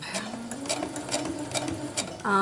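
A sewing machine stitches quilt pieces with a rapid rhythmic whirring hum and pulsing needle strokes, close up, running alone before it stops at the end.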